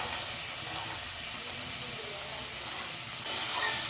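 A Bengali curry of bata fish, prawns and fried drumsticks simmers and sizzles in a pan, a steady close hiss that holds throughout and swells louder toward the end.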